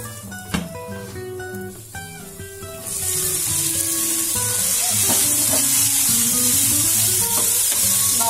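Ridge gourd cooking in a covered pan over a low gas flame, giving a steady, close sizzle and hiss that grows louder and denser after a few seconds, with faint stirring clinks early on and no voices.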